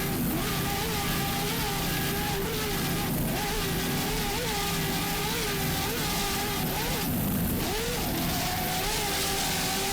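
Offshore racing powerboat engines roar steadily under throttle for WHM Motorsports' Mr. Green on big ocean swells off St. Petersburg, a loud continuous drone with wavering pitch as the hull rides the waves, commentary faintly underneath.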